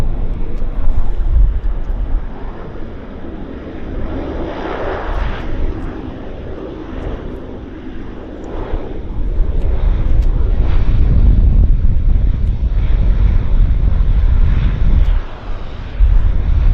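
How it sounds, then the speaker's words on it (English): A De Havilland Q400 turboprop airliner landing at Vancouver Airport, heard as a loud, steady roar of engine and rushing air that holds for the whole stretch and swells slightly toward the end, with wind buffeting the microphone. "we've got another Q400 alighting before us"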